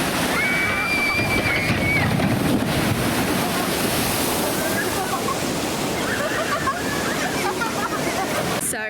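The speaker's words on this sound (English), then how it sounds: "watch us get soaked on the water ride" At the Flamingo Land theme park, water on a splash ride rushes and sprays in a loud, continuous roar. Faint shrieks and voices are mixed into the sound.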